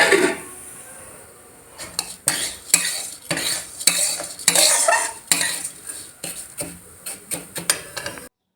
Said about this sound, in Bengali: ডাইরেক্ট চাল বের করলাম আর চালটা না না ধুয়ে আমি এই যে হাঁড়িতে ডাইরেক্ট দিয়ে দিয়েছি